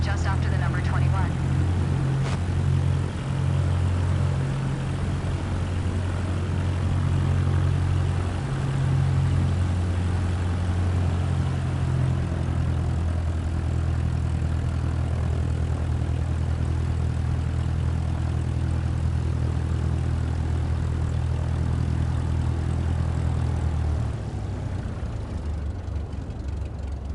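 A propeller airplane taxis onto a runway in Microsoft Flight Simulator, its engine a steady low droning hum with a slight pitch change partway through, continuous and fairly loud throughout before easing near the end.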